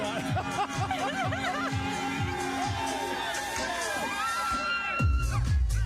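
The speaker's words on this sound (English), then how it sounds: "The crowd is still going, celebrating." A crowd cheering and celebrating at the Chicago tree lighting ceremony, a steady wash of voices, shouts and laughter with music, loud and continuous, ending with a low rumble.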